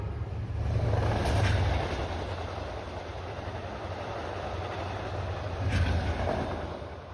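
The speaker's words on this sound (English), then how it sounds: "we see Amtrak 694. This train is completing the final leg of its journey as it approaches Boston North Station" Amtrak 694 passenger train rolling along the Somerville rail line toward Boston North Station, a steady broad rumble with wheel noise that swells twice as it passes, heard from a distance with no talking.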